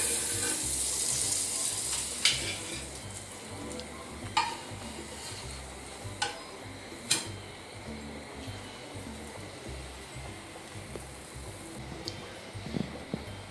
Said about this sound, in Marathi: सानूच्या हातचा टेम्पटिंग पॅनकेक इथे तयार होत आहे.